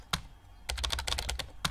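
Keyboard typing from the video game Emily Is Away Too: quick clusters of sharp key clicks with a brief pause, clear and close, with no talk over them.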